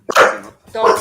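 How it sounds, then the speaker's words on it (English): A dog lets out two short, loud barks close by, the second after a brief pause, with a person speaking over them. "you'll hear my dog barking"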